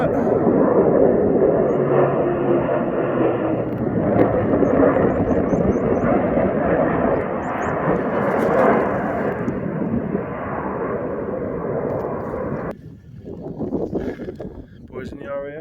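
An RAF military aircraft flies low over Glenridding Dodd in the Lake District, a loud broad roar that holds for several seconds and then drops away, with wind buffeting the microphone throughout.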